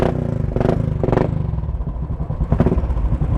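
Royal Enfield motorcycle engine revving in short bursts, with three or four rising blips over a steady lumpy idle, close and fairly loud, with no talk.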